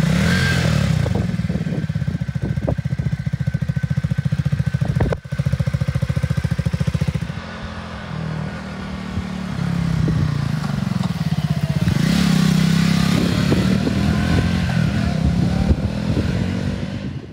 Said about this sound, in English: with the exhaust on this side, I think it looks nice and it sounds nice. It's got a nice rumble as you're riding along